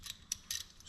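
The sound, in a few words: ratchet snugging up a Chevy Silverado wheel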